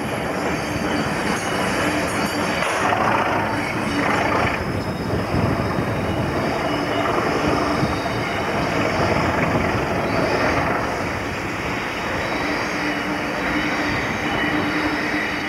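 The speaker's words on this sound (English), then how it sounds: "The engine had been released from the train, it departed light towards Powhite Road" A British Rail locomotive running light engine, departing from Grimsby toward Powhite Road on the Grimsby and District Light Railway in the 1980s, its steady rumble and wheel noise continuous and fairly loud throughout.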